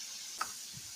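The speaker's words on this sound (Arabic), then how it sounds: "لازم الثوم شوي يتقلب على الحامي" Small bits of garlic sizzle in hot oil in a pan, a faint steady hiss with one brief tick partway through and no voices.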